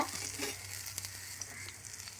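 Mustard seeds, dried red chilies, bird's eye chilies, shallots and garlic sizzle in hot oil as a tempering for rasam, giving a steady close crackling hiss with small pops throughout and no voices.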